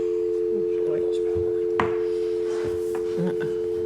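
A steady telephone dial tone drones through a meeting room speaker while staff try to call a dropped participant back, with faint talk and small knocks underneath.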